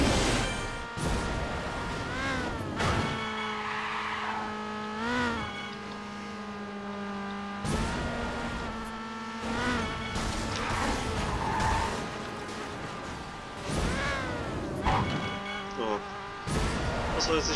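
Arcade racing car in Burnout Revenge, its engine droning with shifting pitch, broken by repeated smashing crash impacts and skids, loud and busy throughout.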